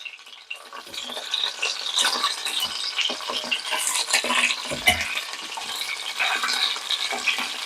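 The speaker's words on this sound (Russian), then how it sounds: "Ну и пусть себе продолжает жариться" Chicken pieces sizzling in a frying pan while browning for a spring lentil soup: a steady, close crackle and hiss of oil with small pops and occasional clinks, continuous throughout without talk.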